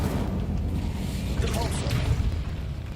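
An Incendio fire spell goes off in Hogwarts Legacy as a loud, continuous roaring rumble with a whooshing burst in the middle.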